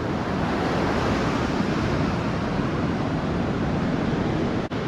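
Steady, dense surf washes continuously onto an empty beach at Sozopol, a Bulgarian seaside town in February, a broad unbroken roar with a little wind noise on the microphone and no voices.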